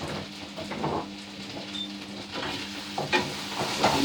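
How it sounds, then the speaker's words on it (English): Carrots tossed into a hot pan for a vegetable pasty filling sizzle steadily up close, while a spoon stirs and scrapes in occasional louder knocks. "Now the carrots can go in. And I'll give it a little stir."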